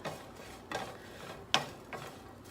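Breadcrumbs being stirred in a little bacon grease in a pan on a burner, with quiet scraping strokes and a few sharper utensil clicks against the pan, faint and spaced out.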